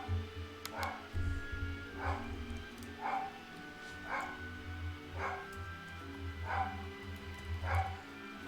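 A dog barks repeatedly indoors, about one sharp bark per second in a steady rhythm, muffled and somewhat distant over a low droning hum.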